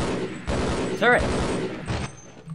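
Automated turret firing in Half-Life, heard as a few rough gunfire bursts amid game noise, with a shouted voice over them.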